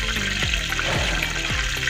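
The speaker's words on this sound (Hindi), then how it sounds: "मैं 1 लीटर पानी डाल रही हूँ।" About a liter of water pours steadily into a cooking pot for rice in a home kitchen, a close, continuous splashing gush with no talk over it.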